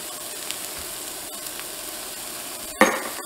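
Shallots and garlic sizzle in a cast iron pan with a steady hiss throughout, followed near the end by a brief louder burst as more goes into the pan.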